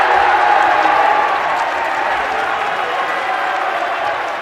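Basketball crowd in a high school gym cheering and clapping after a made three-pointer in a varsity game: a loud, dense wash of voices and applause that slowly eases, with a commentator talking over it.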